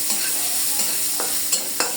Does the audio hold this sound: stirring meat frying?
yes